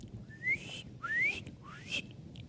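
Smooth-billed ani giving its whistling call, three rising whistled notes, squeaky like a guinea pig, spaced evenly over a couple of seconds and heard clearly against a faint background hiss.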